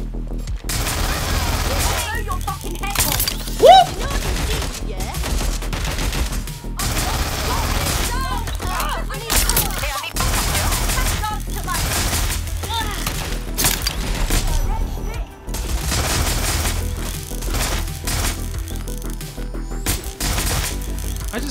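Non-lethal gunfire in the video game Watch Dogs Legion, with repeated bursts of shots, booms and crashes running densely through a long stretch of loud game action, someone talking over parts of it.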